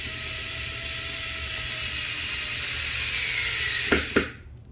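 Screwdriver driving a screw through a desk grommet, a steady close grinding and whirring hum that runs several seconds, ends in two sharp clicks, then drops to quiet; no talking.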